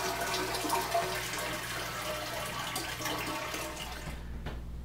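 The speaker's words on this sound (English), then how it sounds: "why don't you go ahead and flush that toilet?" A household toilet flushes to empty its tank before replacement, a steady rush of water close by that runs for several seconds and then cuts off near the end.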